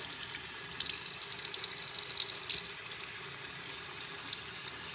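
Water runs steadily from a tap into a sink while a makeup brush is rinsed under it, a constant close hiss and splash with slight surges and no speech.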